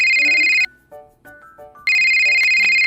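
Toy phone keypad beeps: a string of short electronic tones between longer, bright ringing tone bursts at the start and end, close and loud with no talking.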